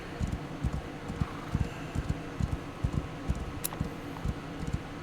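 Horse hooves clip-clop in a steady, quick rhythm as a horse is ridden in the video game Rising World, faint and even with soft background ambience.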